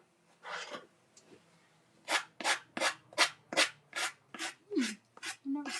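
A handheld sanding tool works over a picture frame in a run of about ten short rhythmic scratchy strokes, close and fairly quiet, with a brief voice sound between them.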